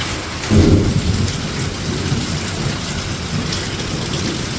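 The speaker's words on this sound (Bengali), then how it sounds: "কমে গেছে বৃষ্টি, ভালোই ভালোই কমে গেছে" Rain and thunder over a Bangladeshi village: a loud low thunder rumble swells early and fades, giving way to steady, even rainfall pattering on surfaces throughout, with no voices.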